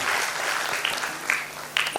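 An audience at a school annual function applauds steadily, a dense wash of clapping at moderate level with a few sharper claps standing out.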